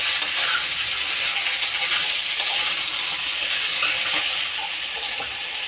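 Dried chillies and panch phoron spices fry in a pan with a steady, bright sizzle that crackles and spatters unbroken from start to finish, with no voices.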